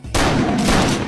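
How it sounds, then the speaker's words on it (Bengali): A single sharp, loud blast from a cartoon gunshot in a Sundarbans lion story, bursting suddenly and ringing on briefly with a noisy tail. "এক্ষুনি গুলি করুন স্যার, গুলি করুন।"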